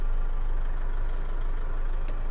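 2007 Isuzu MU-7 3.0 VGS Turbo diesel engine idling smoothly, a steady low rumble with a faint whine, close and continuous with no talk over it.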